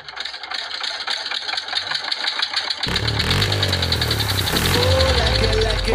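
A toy tractor built from cardboard, fitted with a small motor, starts with a sudden rattling engine drone after a quiet opening and keeps running loud and close, rising in intensity toward the end with a steady mechanical hum.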